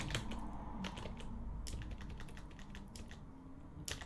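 Quiet, rapid keystrokes on a computer keyboard while typing a Linux terminal command, irregular bursts of clicks with brief pauses, close and alone.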